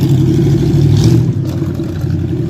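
A tin-can jalopy hot rod engine roars loudly and steadily nearby, a continuous mid-pitched rumble that eases slightly partway through as it passes.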